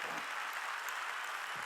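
A church congregation claps during a Sunday worship service, a soft even patter of many hands heard at a distance for a couple of seconds.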